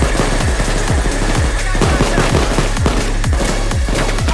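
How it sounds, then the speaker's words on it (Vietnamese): Rapid automatic gunfire from a bank-robbery shooter game, Payday 2, with loud repeated shots in steady bursts over a dense, continuous game soundscape. "Giờ bắn súng lục trước đi,"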